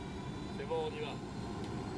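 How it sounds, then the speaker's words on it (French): A helicopter engine in Ghost Recon Wildlands drones steadily, a dense whirring roar that holds level throughout with faint tonal whines riding on top. "Je viens prendre mon hélicoptère."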